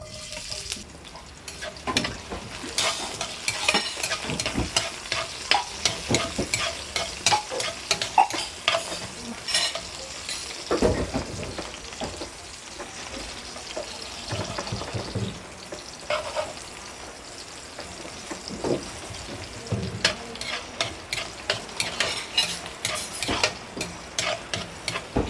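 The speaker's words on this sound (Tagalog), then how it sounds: "Ato nang luto ng iskabitsi" Escabeche sizzles in a hot pan while a utensil stirs and scrapes in quick, rhythmic strokes, close up and with no talking.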